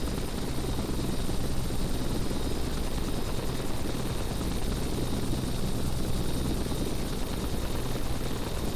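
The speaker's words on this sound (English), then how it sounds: "this must just be a very stable helicopter" A helicopter hovers steadily in the video game Flight Simulator X. Its dense, loud rotor and engine drone runs without a break from start to finish.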